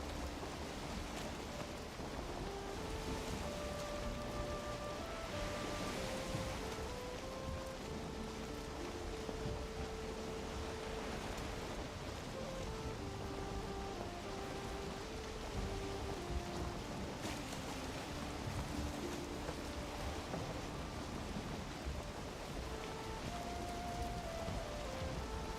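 Continuous rain in a video game, labeled light rain, forming a steady wash of drops with soft low rumbles beneath and faint tonal game sounds drifting in and out, no voices.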